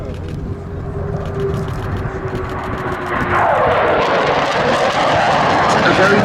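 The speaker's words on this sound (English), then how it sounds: "here it comes, in from the right, the Eurofighter Typhoon FGR-4" A Eurofighter Typhoon FGR4 jet at the Duxford Battle of Britain air show approaches with a loud, broad engine roar that builds and swells as it nears, while a commentator talks over it.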